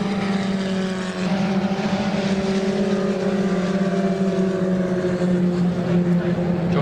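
Two near-identical Lotus 61 Formula Ford race cars battle at Donington Park, engines roaring loud and close as they pass in a continuous droning howl, with a faint commentary voice underneath.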